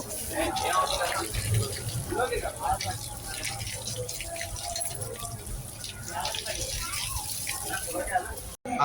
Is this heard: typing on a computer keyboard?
no